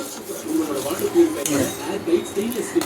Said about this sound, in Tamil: ரவை போட்டு கிளறிட்டுருக்கேன்.